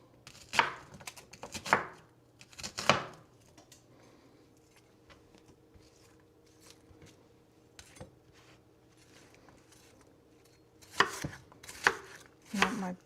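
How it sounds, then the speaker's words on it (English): A knife roughly chops an onion on a board for a vegan broccoli and cauliflower soup, giving clusters of sharp, close chopping strikes near the start and again near the end, with quieter kitchen sounds in between. "I'm gonna use this onion, chop it roughly."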